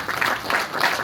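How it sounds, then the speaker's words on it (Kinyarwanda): Audience applause at a graduation ceremony for mediators: a dense, steady wash of clapping from a crowd, loud and continuous throughout. "Murakoze cyane Madame Joselyne, mwongere mumuhe amashyi."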